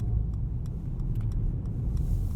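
Steady low rumble of a 2020 Mercedes-AMG GT 63 S pulling out into traffic, engine droning smoothly at moderate level with light throttle and a few faint ticks above, no voices.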